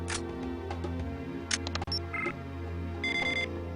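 In the James Bond video game The World Is Not Enough, a spy camera photographs documents with a series of crisp, close shutter clicks and short electronic beeps and tones over a low steady background hum.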